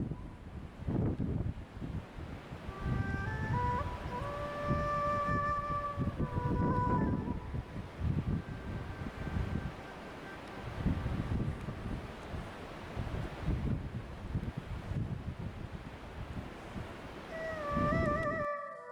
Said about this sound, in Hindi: हवा काफ़ी तेज़ चल रही है